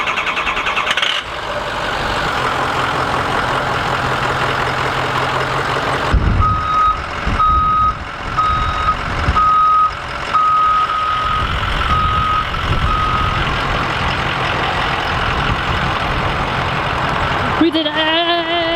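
A school bus on the move with its reversing alarm beeping in a steady repeated pattern, heavy diesel engine rumble and road noise underneath, people talking faintly over it.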